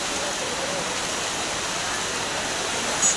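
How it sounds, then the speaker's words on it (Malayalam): Floodwater flowing into the Guruvayur temple grounds, a steady, broad rushing hiss of running water that continues unbroken throughout at moderate loudness. "അമ്പലത്തില് വെള്ളം കയറി തുടങ്ങി"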